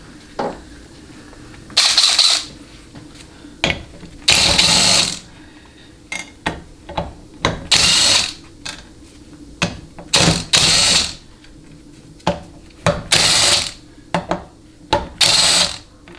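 A hand ratchet loosens the 1/2-inch pan bolts on a Chrysler A904 automatic transmission, giving repeated bursts of rapid loud clicking separated by short pauses, close and with no talk.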